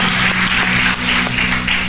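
A church congregation breaks into loud, dense applause, many hands clapping together in a sustained close wash with a faint tonal hum underneath.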